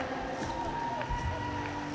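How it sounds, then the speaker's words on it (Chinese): Spectators at a men's enterprise volleyball league game cheer and clap as players are introduced, a crowd roar with shouts rising and falling under a steady sustained tone. "我们一起用最热烈的掌声欢迎这些帅气的球员们"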